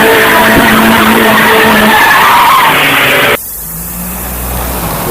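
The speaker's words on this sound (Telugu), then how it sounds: "అక్కడున్న బ్రేక్ గడ్డ దాటంగానే మా బండి కొంచెం ముందుకెళ్ళి పంచర్ అయిపోయింది." A vehicle skids on a potholed gravel road as its tyre punctures, a loud, harsh roaring scrape that cuts off abruptly into a lower, steady rumble.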